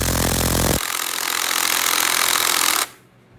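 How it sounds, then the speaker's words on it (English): Half-inch drive impact wrench loosening 14 mm oil sump bolts on an upturned Briggs and Stratton engine, a loud hammering burst that shifts into a harsh sustained rattle, then cuts off sharply. "I had to get out the big 1/2-inch drive impact to bust these loose"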